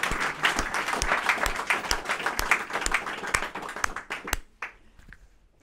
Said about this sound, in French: ces 12 candidats que je vous demande d'applaudir extrêmement fort